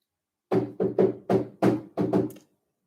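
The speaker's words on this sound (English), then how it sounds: "Is someone knocking?" About seven sharp knocks on a door sound up close in two quick clusters, alone with no voices and silence on either side.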